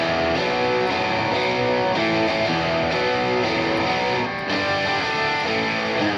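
A distorted electric guitar run through BIAS FX 2 amp modelling, dialled toward a classic rock tone with a digital chamber reverb, plays a sustained riff that rings out continuously at close, even loudness.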